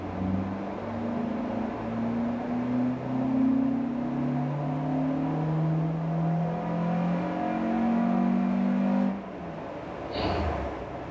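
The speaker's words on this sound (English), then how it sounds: "I'll switch the camera back on when he actually does a full throttle run." A Mk1 Ford Escort fitted with an ST170 engine runs flat out on a dyno, its engine note climbing steadily as the revs rise, loud and close, before cutting off abruptly near the end.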